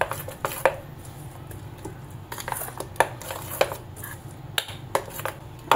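Mixed-dal bhaji batter being stirred in a bowl, with scattered clinks and scrapes of a spoon against the bowl over a low kitchen hum, irregular and close.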